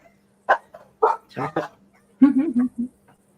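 Several dogs bark in short, loud bursts close by, a cluster of yaps, then a pause before another quick volley of barking.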